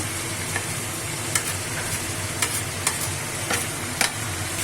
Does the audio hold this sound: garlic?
yes